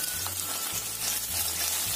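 Eggplant and tofu fry in hot oil in a pan, giving a steady, dense sizzle with a low hum running underneath, close and constant throughout.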